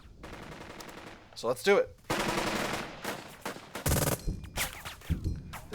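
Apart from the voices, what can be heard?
machine gun suppressing fire in the video game Burden of Command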